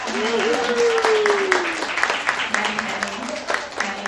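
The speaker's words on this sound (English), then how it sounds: "how about a round of applause for Rob?" An audience claps for Rob, a steady round of applause with a voice talking and calling out over the clapping.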